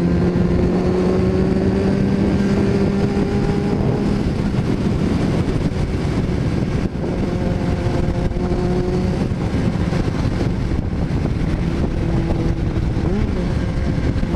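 A 2010 Kawasaki Z 750 without ABS runs continuously while being ridden, its engine note loud and close, rising and falling through gear changes over steady wind and road noise.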